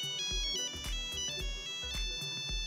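A Nokia mobile phone ringtone plays loud and close, a bright electronic melody of quick repeated tones in a steady rhythm, with no talk over it.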